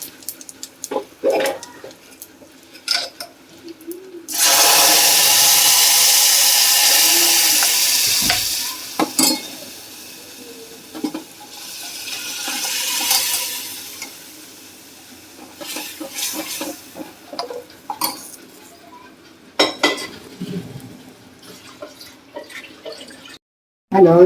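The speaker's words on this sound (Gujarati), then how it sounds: "આ દાળ વઘારવા તેલ મૂક્યું છે" Oil hissing hard in a pan as dal is tempered, a loud sizzle burst that fades, followed by scraping stirs and clinks, with a second smaller sizzle flare midway.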